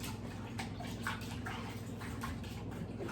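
Tap water running steadily while vegetables are washed for a salmon and okra dish, a continuous splashing rush with irregular soft spatters and dripping.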